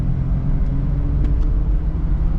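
A car with a classic 4.3L engine and a leaking injection module roars at full throttle, a loud, steady low rumble sustained close up without any speech.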